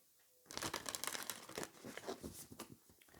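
Oracle cards are shuffled close by, a quiet run of rapid papery riffles and crinkling flicks lasting a few seconds.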